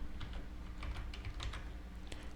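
Fingers tap quickly on a computer keyboard, producing a soft, uneven run of close clicks and keystrokes that fills the whole stretch with no talking.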